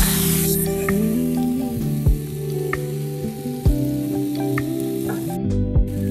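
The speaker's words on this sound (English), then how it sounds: "we are going to brown both sides of our loin. So I am using the same skillet with a little fat of our sausage" Stuffed pork loin browns in a skillet with a little sausage fat, giving a steady, close sizzle with small pops and spatters, over a soft tonal background.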